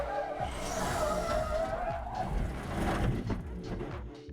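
A race car driven with traction control off spins through a 360 on track, tires skidding and squealing loudly over steady engine noise for several seconds.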